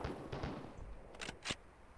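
Buckshot blasts from a shotgun in a 1990s full-motion-video SWAT game, with several sharp reports standing out over a rumbling, busy background and the last shot the loudest.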